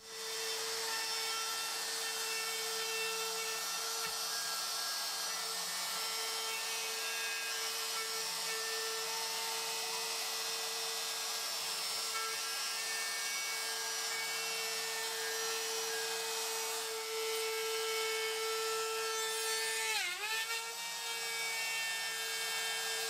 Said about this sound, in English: I can use a straight cut router bit to cut off these bits and avoid having to go near the bandsaw